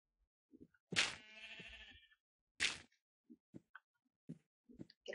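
Sheep in a Minecraft game give two loud, close bleats with wavering tails, followed by scattered soft clicks and small game noises.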